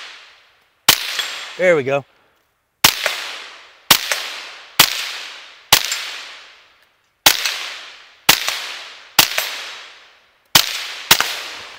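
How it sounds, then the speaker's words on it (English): A Ruger LC Carbine in 5.7x28 fires about ten crisp, loud single shots at steady intervals at a 4-inch steel plate 100 yards out, each with a short echo. One warbling sound and a brief spoken remark come between the first shots. "That bullet gets there so quick and it's so light, it's actually hard to hear the impacts on those targets at long ranges"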